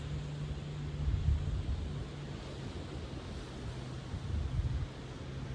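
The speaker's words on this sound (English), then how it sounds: "I hope you're enjoying the sound of the ocean if you can hear it." Ocean waves wash onto a beach in a steady, soft roar of surf with gentle swells in loudness, mixed with low wind rumble and no voices.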